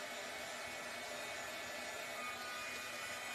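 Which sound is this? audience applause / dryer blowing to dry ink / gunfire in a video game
dryer blowing to dry ink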